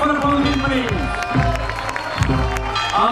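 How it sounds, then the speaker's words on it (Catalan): Crowd clapping and cheering at an anniversary gathering of giant-figure troupes, applause running under someone speaking loudly over a PA through most of the clip. "Un fort aplaudiment per ells."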